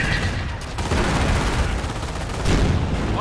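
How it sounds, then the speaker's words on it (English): Rapid, dense gunfire crackles in a Company of Heroes battle during a city siege, close and loud, with sustained bursts of automatic fire and heavy reports layered over each other. "Base is taking fire."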